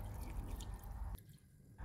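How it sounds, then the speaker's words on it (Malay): Water poured into a pot of cut sweet potatoes with salt, a steady low splashing stream for about a second before it cuts off to a quieter trickle, close and fairly faint. "Kemudian masukkan pula air. Air ni sehingga tenggelam ubinya."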